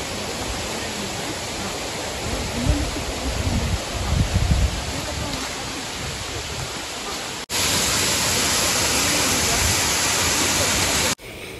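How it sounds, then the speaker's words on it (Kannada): Bangara Balike waterfall pours in a constant broadband roar close by, the rushing water loud and steady, briefly louder toward the end, with faint voices underneath. "ನೋಡಿ ಫ್ರೆಂಡ್ಸ್, ಫಾಲ್ಸು ನನ್ನ ಕಣ್ಮುಂದೆ ಇದೆ."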